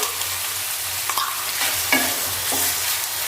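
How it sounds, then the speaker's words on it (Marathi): Tomatoes and onion sauté in a pan for an egg biryani, giving a soft, steady sizzle broken by several scraping stirs, close and fairly quiet, with no talking. "टोमॅटो नरम होईस तर परतून घेऊया"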